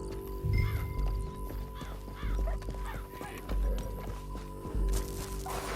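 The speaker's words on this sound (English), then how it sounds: "Back on your horse." Horse hooves thudding in a steady galloping rhythm in Red Dead Redemption 2, close and fairly loud, with neighs, jangling tack and bird caws over a low ambient music drone.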